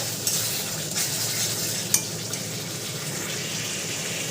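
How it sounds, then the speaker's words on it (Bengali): A river-fish curry with eggplant sizzles in a hot pan after water is added: a continuous loud, bright frying hiss and bubbling, broken by a couple of faint clinks. "দেখো জল দিয়ে দিয়েছি"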